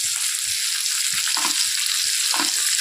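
A large tomato drops into a pan of frying capsicum, giving a steady loud sizzle with soft stirring and scraping knocks throughout.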